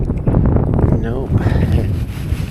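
Strong gusting wind roars over an open frozen lake during ice fishing for walleye and perch, a steady loud rush filling the whole clip while someone talks and calls out over it.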